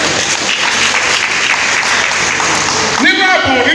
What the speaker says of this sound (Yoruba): pàtẹ́wọ́ fúnra yín